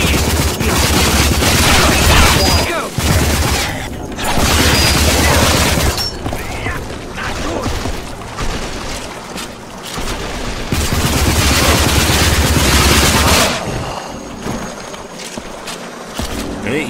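Rapid gunfire from the video game Rage, loud and dense bursts of shooting that run almost continuously with brief gaps, close and dominant throughout.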